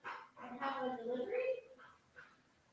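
A dog barks and yips indoors at home in a short burst of close, loud barks that trail off into fainter whimpering sounds.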